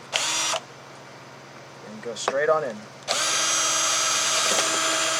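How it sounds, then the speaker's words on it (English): A power drill whirs in two loud bursts, one short and one sustained, drilling holes in an RC airliner model, with a person speaking briefly between them. "So then I get my drill"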